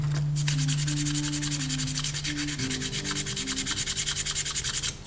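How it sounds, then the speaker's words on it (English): A bone arrow being sanded smooth with 220 grit sandpaper, a steady, close rubbing scrape in quick repeated strokes that continues without pause and with no talking. "I'll just sand it down, because you want these bones to be really smooth"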